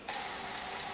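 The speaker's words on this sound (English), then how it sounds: "it makes a bad beep at me and it just sits there doing nothing" A PS3 optical drive failing to eject gives three quick, shrill electronic beeps in a row, close and clear, followed by a faint mechanical hum.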